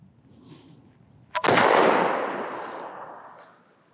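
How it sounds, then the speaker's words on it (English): A .577 Snider rifle fires 130-year-old ammunition into a hillside. A single loud boom follows a quiet lead-in and trails off in a long, rolling echo. "just shoot into the hill, you know, at a rock or something, and there's no danger of ricochet"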